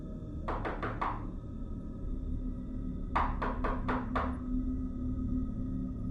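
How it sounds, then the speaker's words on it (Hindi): Knocks land on a house door at night in two sharp bursts, first four quick raps and then, after a pause, five more. They ring out close and hollow over a faint steady hum. "अमन के दरवाजे पर फिर से दस्तक हुई।"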